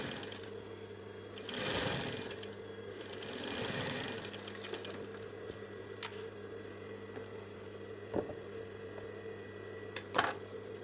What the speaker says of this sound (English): Now use a loose stitch to sew half an inch all through.